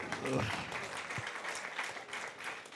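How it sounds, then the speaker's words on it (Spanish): An audience applauds after a call for a round of applause, a steady wash of many hands clapping close by with voices mixed in over it. "Vamos a darle un aplauso."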